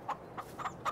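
Chickens in Farming Simulator 22 clucking in short bursts, four separate clucks spaced across a second, close and clear over a quiet background.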